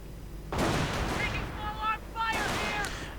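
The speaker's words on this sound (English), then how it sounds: "And the howitzer fires, probably right here against the infantry." Howitzer and mortar artillery fire in a strategy video game: two loud broadband booming bursts about two seconds apart, each trailing into ringing tonal effects, over a constant low rumble.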